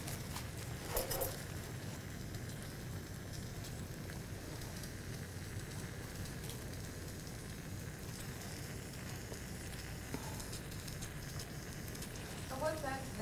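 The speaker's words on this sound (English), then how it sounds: "So what's that I hear sizzling?" Sandwiches sizzling steadily in a hot pan or panini press with Dijon mustard, a continuous crackling hiss with occasional louder pops, fairly close and alone without talk.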